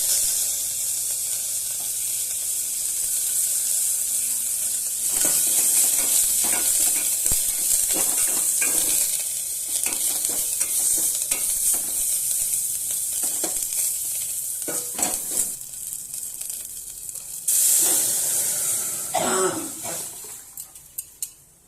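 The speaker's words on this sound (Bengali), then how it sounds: "তো এবার আমি কারি পাতাটাও দিয়ে দেবো।" Dried chillies, cumin and curry leaves sizzle steadily in hot mustard oil for a moul dal, with stirring and a few clinks of a spoon against the pan punctuating the constant frying hiss.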